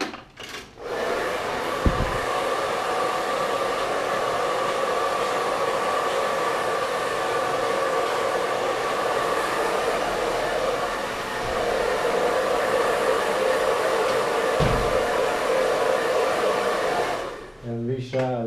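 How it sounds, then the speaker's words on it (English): A hair dryer blows hair in a salon with a loud, constant whoosh, briefly broken by faint clicks and knocks near the start and middle, then cut off near the end. "Now I'm gonna blow dry."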